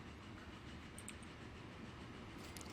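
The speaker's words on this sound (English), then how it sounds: "Plenty of room for that train to stop in the middle there." A train in the Transport Fever rail simulation game rolls along with a steady rumble and faint clickety-clack of wheels, brief and fairly quiet with no talk over it.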